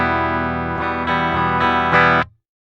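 A Bullfighter smart electric guitar, on a clean setting with no effects, plays a series of strummed chords in an even rhythm, close and loud, ending with an abrupt stop and no talking.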